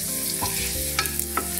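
Garlic and a bay leaf fry in oil in a pan, giving a dense, continuous close sizzle with a few small pops and crackles, and no talking.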